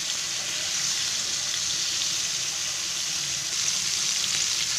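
Coated Bombay duck fish frying in a pan of oil, a loud, continuous, close sizzle and crackle throughout, with no talking.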